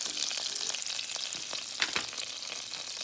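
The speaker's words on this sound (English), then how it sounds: "while this grease is sizzling?" Steady crackling sizzle of hot grease in a frying pan after turkey chops are fried, with scattered pops and spits over a constant hiss, fairly quiet and close.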